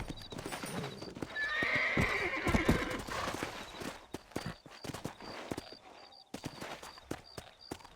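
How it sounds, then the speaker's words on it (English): Horses in the video game Red Dead Redemption clip-clop along at a walk, their hooves thudding rhythmically as one lets out a loud, close whinny early on, followed by scattered hoof steps and snorts. "Let's get back on the horses and see what else is going on."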